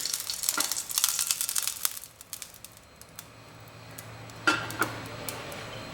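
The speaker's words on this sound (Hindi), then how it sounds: "इसके अंदर ये जो हमारे ड्राई फ्रूट्स हैं, इन्हें डाल के शैलो फ्राई करेंगे" Dry fruits shallow frying in pure ghee over low heat, a steady high crackling sizzle with soft scrapes and a few sharper clinks of a utensil against the pan, fading quieter midway then picking up again.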